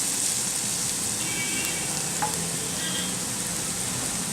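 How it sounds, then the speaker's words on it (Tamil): Onions cooking lightly in a pan with turmeric powder give a steady, close sizzle and hiss that holds evenly throughout, with faint stirring and no voices. "இதுக்கு வெங்காயம் நல்லா ஃப்ரை ஆகணுங்கிற அவசியம் இல்லை, லைட்டாக வெந்தாலே போதும்"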